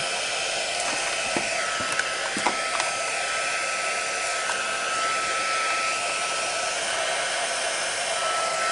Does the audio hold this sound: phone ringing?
no